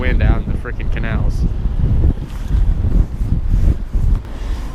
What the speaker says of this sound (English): Just look at the wind out in the freaking canals.